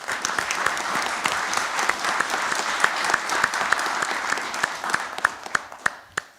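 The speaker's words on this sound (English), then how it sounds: "he and his team deserve a round of applause" A small room at a town select board meeting breaks into a round of applause, steady clapping for about six seconds that thins out into a few scattered final claps.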